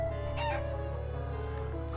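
In the role-playing video game Trails of Cold Steel 2, a chicken clucks briefly over steady in-game background music and a constant low hum.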